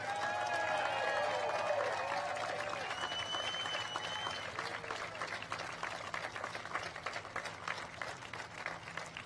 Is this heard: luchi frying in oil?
no